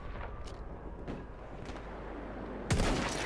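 Gunfire in the Battlefield 1 video game: a few faint, scattered shots in a busy battle soundscape, then a sudden loud, close burst near the end.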